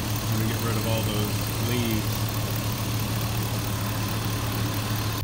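A 2003 Chevrolet Suburban with a rebuilt 4L60E transmission drones steadily on a test drive, a continuous low engine hum with no break in level throughout.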